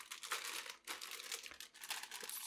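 Plastic bags holding model kit parts crinkle and rustle up close in quick, uneven bursts, quiet overall with brief gaps between handlings.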